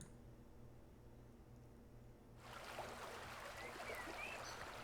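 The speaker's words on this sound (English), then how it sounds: "the soft sound of rushing water now clear" Rushing river water in a furry visual novel, beginning as a faint background hiss and then swelling suddenly into a steady, brighter rush that continues to the end with no talk.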